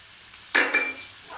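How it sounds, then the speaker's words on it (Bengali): Ginger garlic paste drops into hot oil in a pan and bursts into a sudden loud sizzle that fades over about a second, with no talk. "এবার দেবো আদা রসুন বাটা"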